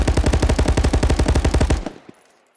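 Automatic weapon firing in the VR game Contractors: a rapid, even burst of about twenty loud shots, close, ending abruptly with a short echoing tail.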